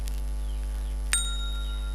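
A bright electronic notification ding for a subscribe bell rings once, clean and short with a sustained tail, over a steady low hum and no voices.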